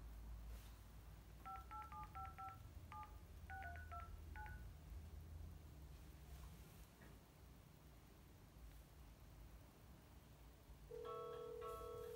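Telephone keypad dialing tones play as a call is placed home through a Bluetooth system for a car and sauna: a quick run of short dual-tone beeps, a pause with faint background hiss, then a longer tone near the end, all faint.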